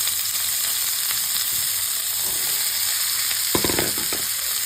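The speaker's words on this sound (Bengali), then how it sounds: "তেলটা গরম হয়ে গেলে সব সবজি আমি দিয়ে দেবো," Vegetables frying in hot white oil in a kadai give a steady, close sizzle with a brief burst of louder crackling near the end.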